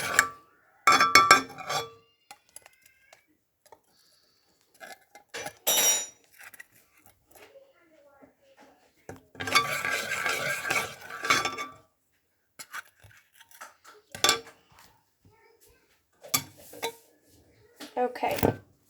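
A gummy building block mixture is stirred with a utensil in a container, giving intermittent bursts of clinking and scraping separated by quiet gaps, with one longer stretch of stirring midway.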